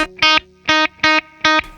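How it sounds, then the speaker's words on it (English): Electric guitar on the clean channel of an Orange Rockerverb amp with its tube-powered reverb switched on, four short, bright, punchy strums in a quick even rhythm, each with a brief tail, loud and close. "Let me put some reverb on that."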